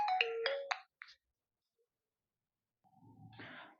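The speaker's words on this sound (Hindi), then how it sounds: "एक फोन आया।" A phone ringtone for an incoming call plays as a short run of bright electronic tones, then stops; after a silent gap, soft rustling and handling noise follow.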